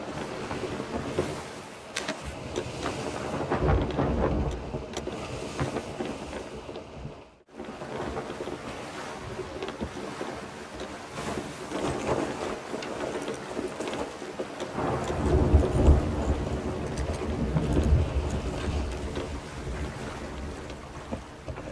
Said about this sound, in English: weary of the storm that was heading in my direction